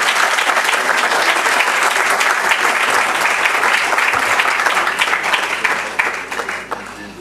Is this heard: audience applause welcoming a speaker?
yes